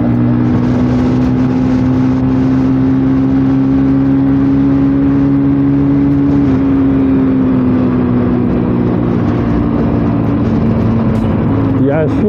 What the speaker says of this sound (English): I'm redlining it every time I push it, but I don't think it's doing that much damage